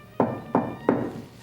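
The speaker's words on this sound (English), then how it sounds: "what you just heard is 3 knocks from the prince" Three evenly spaced knocks on a door, close and solid, each a sharp hollow thud with a short decay and a quiet pause between.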